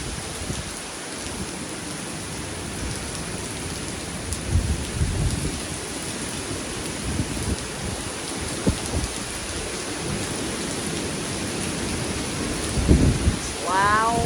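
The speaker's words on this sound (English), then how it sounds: "the rain is blowing" Heavy wind-driven rain from Hurricane Delta during landfall in Louisiana, a loud, steady roar of downpour on surfaces close by, with gusting swells and a brief higher tone near the end, recorded from under a porch.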